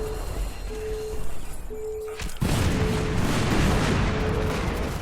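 A grenade going off in the video game Crackdown: a sudden loud blast a little after two seconds, followed by a sustained noisy rumble, with a recurring electronic tone underneath.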